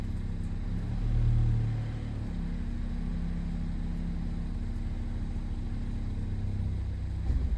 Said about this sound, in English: Looks like it engaged first gear.